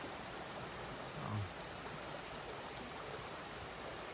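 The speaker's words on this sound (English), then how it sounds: "I completely forgot about the fifth waterfall on this trail" Hemlock waterfall on a creek in the Sipsey Wilderness, Alabama, flowing well as a long cascade, gives a steady rushing wash of water, even and unbroken, heard from a short distance with no voices.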